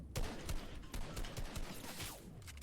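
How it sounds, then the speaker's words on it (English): Several sharp gunshots ring out in a chaotic Fortnite battle, one a sniper rifle crack, with overlapping bursts of gunfire and game effects, fairly loud and dense throughout. "I got shot by a sniper"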